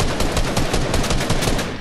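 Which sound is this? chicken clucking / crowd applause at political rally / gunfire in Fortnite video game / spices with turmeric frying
gunfire in Fortnite video game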